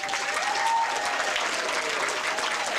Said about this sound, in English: I would like to ask for another round of applause for our three legends tonight.